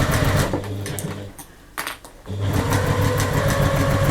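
Sewing machine stitching a woven pouch seam with a zipper foot fitted, running in a steady loud whir, pausing briefly in the middle, then starting up again close by with no talk.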